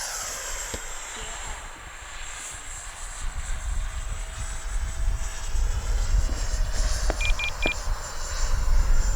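A Freewing F-16 70mm V3 electric ducted-fan RC jet flies a slower pass, its steady high whine and broadband rush holding throughout under outdoor wind noise, with a few short electronic beeps near the end.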